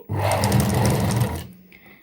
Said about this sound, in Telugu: లోపల వైపు కూడా ఒక పావించు మాత్రమే ఖర్చు ఉండేటట్టు చూసుకుంటూ చుట్టూ స్టిచ్ చేసుకోవాలి